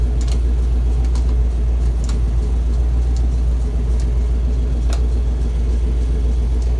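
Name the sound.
Chevy square body truck exhaust rumble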